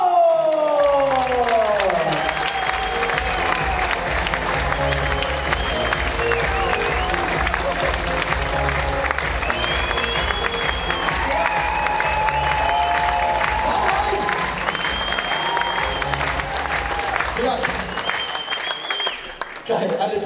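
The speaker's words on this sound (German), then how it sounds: "Geil, alle klatschen" Audience applause fills a comedy charity show, dense sustained clapping and crowd noise running nearly the whole stretch, loud and close, with a voice over the start and occasional cheers.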